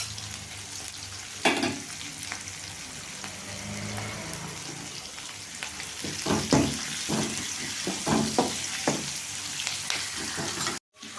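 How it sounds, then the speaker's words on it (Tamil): Onions sautéing in a pan for a Tamil drumstick-leaf poriyal, a steady close frying sizzle with scrapes of stirring that grow busier and louder toward the end, no voices. "பாருங்கள், வெங்காயம் நல்லா வதங்கிடுச்சு."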